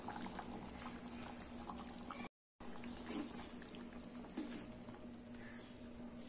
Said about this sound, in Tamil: 1/2 மூடி அளவுக்கு தேங்காய் இந்த மாதிரி நெய்ஸா அரைச்சி வச்சிருக்கேன், அதை ஊற்றிக்கலாம்.